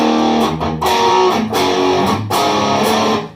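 Crunchy overdriven electric guitar through a BOSS Super Overdrive pedal strums a few sustained chords in a loose repeating pattern, gritty but not extremely saturated, played loud and close.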